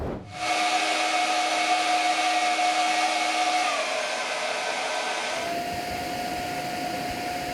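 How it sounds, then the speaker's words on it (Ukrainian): A hair dryer with its heating on, powered by an EcoFlow River 2 Pro portable power station, roars steadily up close with a whining tone, and the pitch shifts slightly partway through as it keeps blowing. "Можна підключити навіть фен для волосся з увімкненим нагрівом пасивом."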